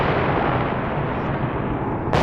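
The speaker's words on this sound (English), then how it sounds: "they're openly shooting at every vehicle in the AO" Heavy gunfire is aimed at vehicles in a military video game, heard as a loud, dense, continuous roar of shots and blasts that fills the whole stretch with no pauses.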